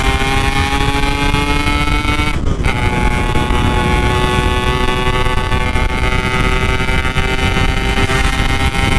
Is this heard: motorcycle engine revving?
yes